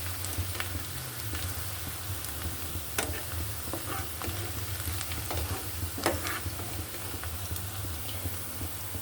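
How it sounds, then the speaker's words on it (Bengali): Sliced onion and green chillies fry in hot oil in a pan, giving a steady close sizzle with scattered crackles and occasional scraping stirs of a spatula, heard alone without voices. "কাঁচামরিচ পেঁয়াজটা আমি ভালো করে ভেজে নিচ্ছি"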